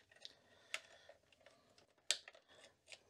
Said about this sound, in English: the last step here in this keyboard here is the missing keycaps